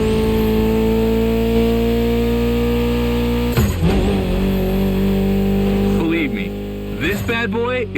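A Mitsubishi inline four-cylinder car engine in The Crew Motorfest video game idles with a steady drone, then revs sharply in several rising bursts toward the end, loud and close.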